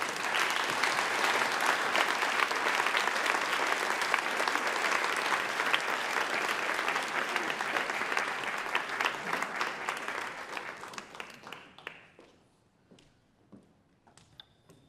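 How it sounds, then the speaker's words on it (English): An audience at a Canadian arts and culture talk gives sustained applause, dense clapping for about eleven seconds that then thins out to a few scattered claps and fades to quiet. "Give them a round of applause."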